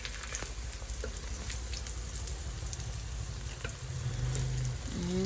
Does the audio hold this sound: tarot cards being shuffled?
no